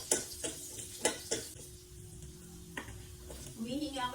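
Onion and garlic frying in a pan while being stirred, a quiet sizzle broken by several sharp spoon taps against the pan, with a brief voice rising near the end.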